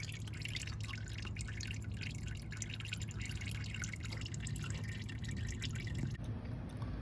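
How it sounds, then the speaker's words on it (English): Transmission fluid from a Ford Ranger drains steadily onto the ground, a continuous trickling, dripping liquid sound heard up close and moderately quiet, with no talking. "it'll drain out quite quickly, as you saw, and all over the ground"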